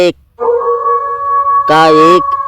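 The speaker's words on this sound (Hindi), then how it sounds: "एक साथ सैकड़ों भेड़ियों की गुर्राती आवाजें सबकी धड़कनें बढ़ा गई" Wolves howl in long sustained tones that overlap, with a second louder cluster of howls rising near the end, close and prominent against a quiet background.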